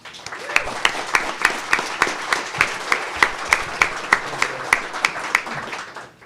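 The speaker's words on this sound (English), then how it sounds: "I think we should give them a round of applause" An audience claps a slow, steady rhythm of loud, sharp synchronized beats, about three per second, at an event on marijuana and law enforcement honoring narcotics units and the DEA.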